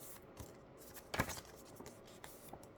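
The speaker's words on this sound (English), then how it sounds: "I'm going to score that line where they fold over each other" A tool scores a fold line across paper for a paper journal box, making a faint, quiet scratch with one sharper stroke near the middle and a few small taps and rustles around it; no talking.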